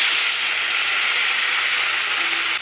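Small fish dropped into hot mustard oil give off a loud, steady, close-up sizzle, a continuous bright hiss with no talking over it.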